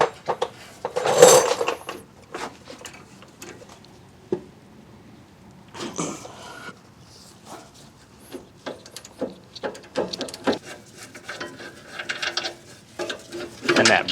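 A ratchet works loose the 18mm brake bracket bolts on a 2012 Ford F150 3.5L rear brake, giving sharp metallic clicking bursts and clinks in irregular clusters, close and fairly loud, with pauses between turns.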